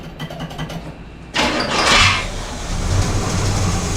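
An abandoned Squarebody truck engine cranks briefly, then catches with a sudden loud roar, revs up hard and settles into a rough, steady idle close by.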